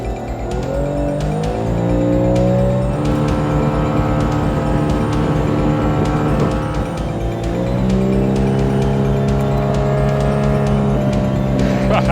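A speedboat powers across a lake in Khorramabad, its motor droning loud and close with rising and falling pitch as it speeds up, steady rushing noise underneath.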